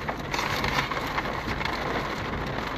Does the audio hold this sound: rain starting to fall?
yes